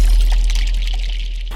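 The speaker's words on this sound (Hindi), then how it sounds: "इस तरह से आपने लेना है गर्म पानी।" Hot water poured into a basin for an at-home foot pedicure: a steady, close splashing stream running for about a second and a half without pause.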